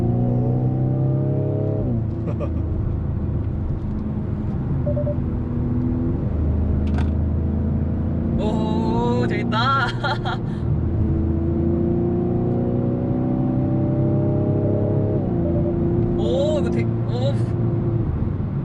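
A Hyundai Veloster 1.6 Turbo engine revs and drones continuously with rising pitch sweeps as it accelerates through gears, exhaust prominent, while people inside talk and exclaim briefly.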